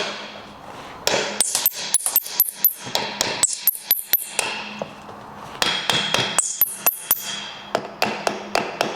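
Sharp metallic hammer strikes hit the engine case tabs to split a blown Vespa GTS 300 HPE motor, coming in rapid bursts of close, ringing blows with short pauses between.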